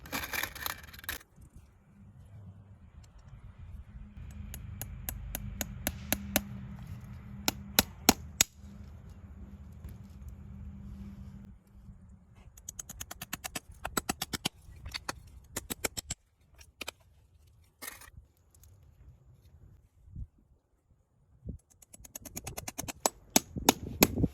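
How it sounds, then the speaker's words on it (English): Nails being hammered into an aluminum horseshoe on a show hunter's hoof, heard as bursts of sharp metallic taps in quick rhythmic runs separated by pauses, close and crisp against a quiet background. "Now we take our shoe and nail it up."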